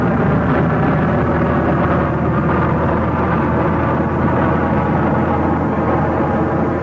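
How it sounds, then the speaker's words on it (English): Jet engine restarting in flight during a 1950s test at Edwards, a steady loud broadband roar with a deep rumble, continuous and dense throughout. "A jet engine restart in the air."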